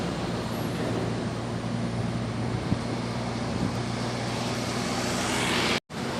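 An ALS intercity bus, Nopin 137 on the Rimbo Panti route, runs with a steady low engine drone and road rumble. The sound holds constant and close, then cuts out briefly near the end.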